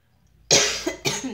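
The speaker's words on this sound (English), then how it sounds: "I have a bad cold, bad cough, obviously." A woman with a bad cold coughs twice in quick succession, close and fairly loud after a moment of near silence, each harsh burst trailing off briefly.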